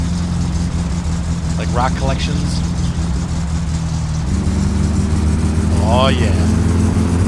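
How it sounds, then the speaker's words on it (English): A car engine in My Summer Car runs with a steady, rough low drone throughout. The pitch shifts slightly partway through, and people talk over it. "This car's doing pretty good, though. I mean, like, yeah, it's running great. Sounds terrible"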